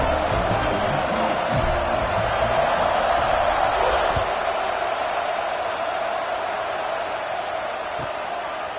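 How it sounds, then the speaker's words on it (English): A football stadium crowd buzzes with a loud, steady roar that holds without a break throughout. "this crowd is buzzing after that last score"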